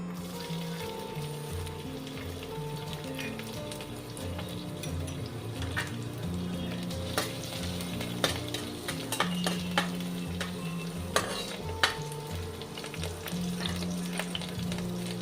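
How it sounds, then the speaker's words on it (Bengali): Chopped garlic sizzles in hot oil in a wok, a dense steady fry with sharp utensil scrapes and clinks scattered through it and no talking. "প্রথমে আমি রসুন কুচিটা দিয়ে দেব।"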